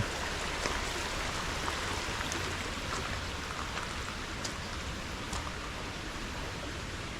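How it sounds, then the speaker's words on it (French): Small waterfall in a water garden, a steady broadband rush of falling water that stays even and moderately close throughout, with no voices. "Et voilà, une petite cascade."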